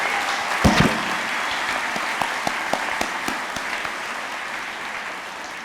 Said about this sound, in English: please join me in giving these folks a big round of applause